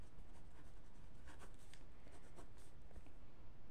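A pen scratches numbers onto paper during a high school maths lesson, making quiet, continuous scratching and rubbing strokes close by, with no voice over them.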